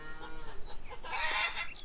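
Chickens clucking on a farm in the video game Lumberjack's Dynasty, a busy stretch of soft fowl calls layered together with no one talking.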